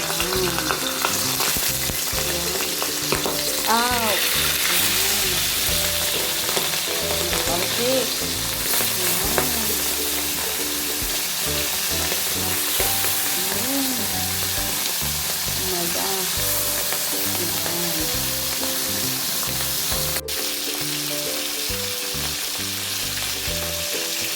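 Galunggong fish frying in hot oil in a pan, a steady, close, dense sizzle and crackle running throughout with light stirring clatter and no talking.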